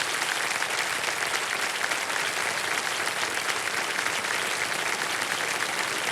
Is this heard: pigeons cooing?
no